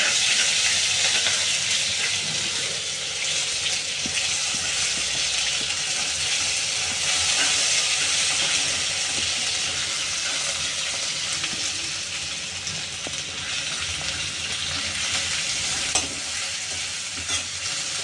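Pumpkin pieces fry in hot oil for a Maharashtrian kadhi, giving a loud, steady sizzle that holds close and even for the whole stretch, with faint stirring underneath and no talk.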